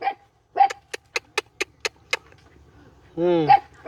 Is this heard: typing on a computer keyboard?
no